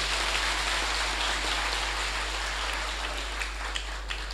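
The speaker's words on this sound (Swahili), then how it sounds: "wapigieni makofi watu wangu wakae bwana" A crowd at a party campaign rally in a hall applauds the team, with continuous, even clapping from many hands, steady and fairly distant throughout.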